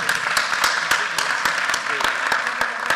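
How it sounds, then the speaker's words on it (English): A crowd applauds Greg Gooseby, chairman for the City of Forsyth, at a Monroe County Schools event, with steady clapping under several sharp, close individual claps and a voice speaking over it. "Give him a round of applause"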